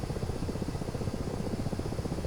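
Ka-50 Black Shark attack helicopter in the DCS combat flight simulator, its steady rotor and turbine roar filling the whole stretch loudly and continuously with a dense low throb and no talk.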